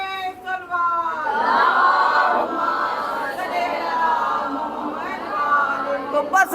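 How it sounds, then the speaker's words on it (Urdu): Crowd at a Shia majlis-e-aza mourning gathering in an azakhana, for Safar, loudly chanting religious slogans in unison, a sustained mass of voices filling the hall. "نعرے حیدری، یا علی، نعرے سلوات"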